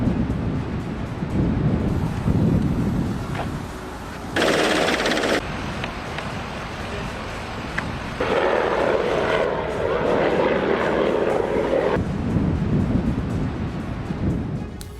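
A rescue helicopter airlifts a fallen rock climber, its rotor producing a continuous chopping thrum with wind buffeting, loud and close, the texture shifting in blocks as the aircraft moves.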